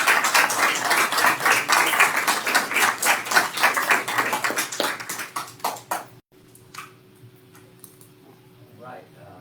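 Applause for Ms. Christou fills a town board meeting room, steady close-up clapping from a modest crowd for about six seconds before it cuts off into quiet room tone with faint talk.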